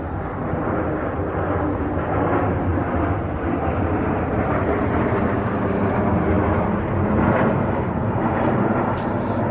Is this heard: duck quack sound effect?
no